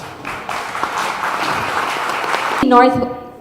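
An audience gives a round of applause at a Philippine pitch event, a dense steady clatter of clapping throughout. It is overlaid by a chatty voice, and sustained tonal music swells in near the end.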